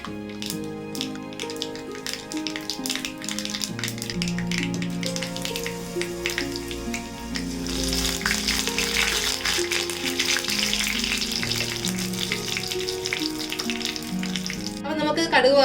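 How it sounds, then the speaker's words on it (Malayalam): Mustard seeds frying in hot oil for puli inji, a continuous sizzle with scattered popping crackles that grows louder in the second half, plus occasional utensil clinks. "നമുക്ക് കടുക് വറുത്തെടുക്കാനായിട്ട് ഞാനിപ്പം എണ്ണ ഒഴിച്ച് ചൂടാക്കിയിട്ടുണ്ട്"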